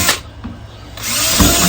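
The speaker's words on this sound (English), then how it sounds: "I'm just going to drill a whole bunch of holes" A power drill bores holes in a 4-inch well pipe, loud and close, with a short burst, a brief lull, then a sustained whirring grind to the end.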